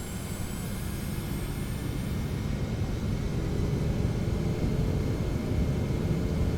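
Boeing 717 jet engines at takeoff thrust in a Prepar3D flight simulator, a loud, steady broadband roar with deep rumble that holds constant throughout, alone with no voices.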